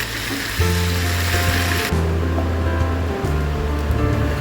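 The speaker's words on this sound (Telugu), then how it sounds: "1 స్పూన్ ఆయిల్ వేసి మనము కడిగి పెట్టుకున్న పాలకూరను ఇందులో వేసి వేయించాలి" Washed spinach fries in a spoonful of oil in a pan, making a loud hissing sizzle that drops away partway through, with background music underneath.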